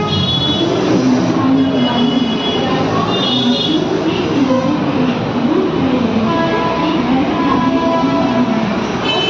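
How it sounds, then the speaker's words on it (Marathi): A Mumbai fast local train pulls into Dadar station, a loud, continuous rumble of wheels and carriages with metallic squeals and rising and falling whines running throughout. "हे बघा ट्रेनने एंट्री केलेली आहे"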